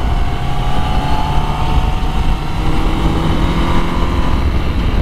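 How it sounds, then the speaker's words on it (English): Honda CBR1000RR-R Fireblade SP sportbike engine roaring loud and close, a continuous heavy rumble with rising and falling tones as it pulls, with no voices. "Oh, the sound of that engine just never gets old."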